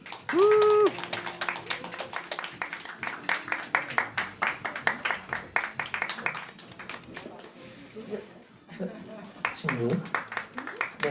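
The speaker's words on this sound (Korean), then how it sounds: "박수." Audience applause at a church youth group gathering, a steady patter of clapping mixed with people talking over it throughout.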